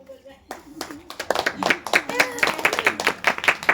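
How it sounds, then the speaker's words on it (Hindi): An audience at a spiritual discourse breaks into clapping after near-silence, building into dense, fairly close applause with uneven bursts that continues to the end. "जम के लोग ताली बजा के आशीर्वाद दीजिए।"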